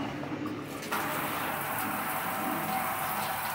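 Water from a small home shower runs in a steady hiss, getting a little louder and fuller about a second in and staying continuous, with no voices.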